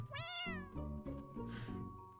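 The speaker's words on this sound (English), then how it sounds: "Looks like a cat or something like that." A cat meows in a horror video game, one long rising and falling meow followed by a string of shorter, lower calls, close and clear with no talk over it.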